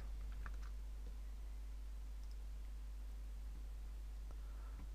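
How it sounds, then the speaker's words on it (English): Typing on a computer keyboard: a few faint, scattered key clicks close by over a steady low hum and hiss, with no talk. "you can create new text and type your text"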